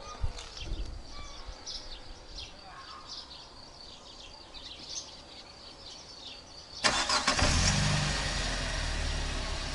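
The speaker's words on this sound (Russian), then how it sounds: "Иди, заведи машину." A car engine cranks and catches near the end, settling into a loud idle after several seconds of quiet outdoor ambience with insects and faint voices.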